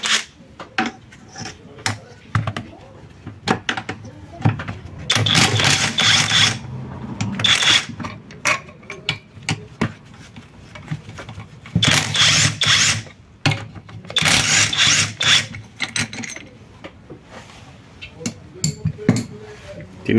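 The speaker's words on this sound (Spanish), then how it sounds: "ahora voy a retirar los otros pernos que me faltan de la carcasa aquí" Bolts come out of the gearbox housing of a Fiat Fiorino City, with repeated ratchet-wrench clicking bursts and metallic handling noises up close, separated by quieter pauses.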